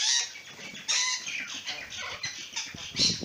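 Two wild white galah cockatoos call in a backyard, a run of harsh, screechy squawks close to the microphone with some flapping, loud and alone without talk.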